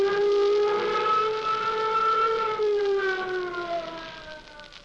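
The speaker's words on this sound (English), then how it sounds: "Sound flight warning signal." A flight warning siren sounds in a radio drama's airfield control scene, a loud, steady wailing tone that holds and slowly drifts downward in pitch across about five seconds, with no voices over it.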